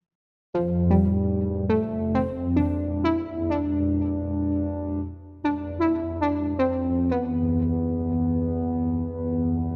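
A buzzy retro synth lead plays a short melodic phrase of plucked-sounding notes, then repeats it and holds a sustained tone, loud and solo.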